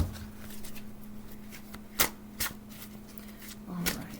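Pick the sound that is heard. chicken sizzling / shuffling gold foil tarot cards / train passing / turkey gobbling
shuffling gold foil tarot cards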